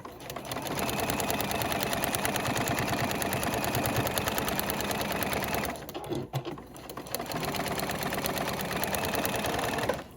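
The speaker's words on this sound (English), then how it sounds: "I'm going to go sew this" A sewing machine stitches fabric pieces together for a spinning five-pointed star quilt block with Y-seams. It runs as a close, fast, steady mechanical whirr, pauses briefly near the middle, then runs on again.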